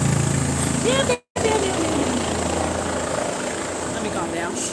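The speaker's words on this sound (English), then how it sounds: "I gotta entertain y'all while helicopters flying over my head." A helicopter flies low overhead, its continuous rumbling rotor drone loud throughout, broken by one brief cut, while a person talks over it.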